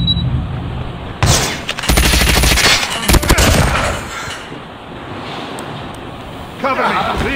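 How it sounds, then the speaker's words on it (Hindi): A shotgun fires in the mobile shooter Call of Duty Mobile, with a few heavy, loud blasts standing out over a steady rushing game background, and a voice speaking in between. "ये गन मुझे अच्छी सी लग रही है ओ बे यार ये शॉटगन है"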